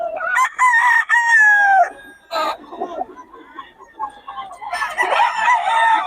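A rooster crows loudly and close by in a long drawn-out call, followed by more crowing and clucking from other birds around it.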